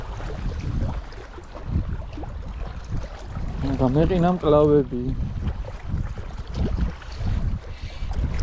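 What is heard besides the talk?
cold wind blowing at Tbilisi Sea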